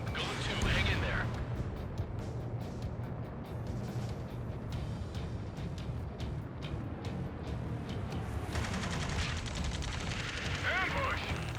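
Gunfire rattles in an ambush in the Ace Combat 7 video game, a dense, continuous burst of rapid shots and booming impacts running the whole time, with voices mixed in.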